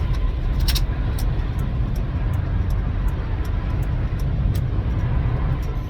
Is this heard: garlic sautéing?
no